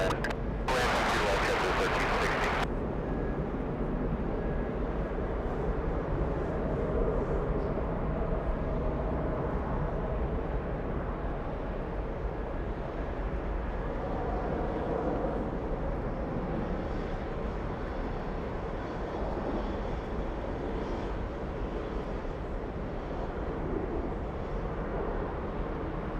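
An Airbus A350 ultra-long-range airliner at JFK airport gives a steady, distant broadband roar that carries on unbroken throughout, with no voices heard over it.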